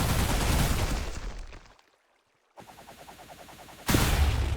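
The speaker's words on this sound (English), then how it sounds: "that was a big explosion with knockback" A big explosion with knockback in a modded Jujutsu Kaisen video game: a loud, dense blast roar that fades into brief silence, then another rumbling burst and a sharp loud hit at the end.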